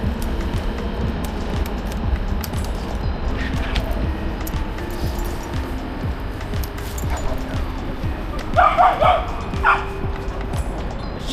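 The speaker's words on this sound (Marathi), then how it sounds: "छान कुत्रे." Dogs bark on a city street in Antwerp, Belgium; a short burst of several close yapping barks stands out near the end over low traffic and street rumble.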